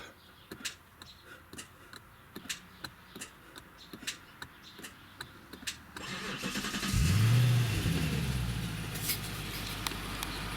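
An Infiniti M56 V8 with OEM sport exhaust cranks over with a series of starter clicks, then fires into a loud rumbling idle that settles into a steady drone, heard up close with no talking.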